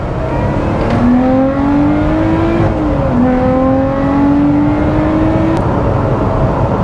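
A Lotus Exige Sport 390 Final Edition engine revs up steadily, its pitch rising in a long climb, dipping at a gear change, then climbing again; loud and close throughout.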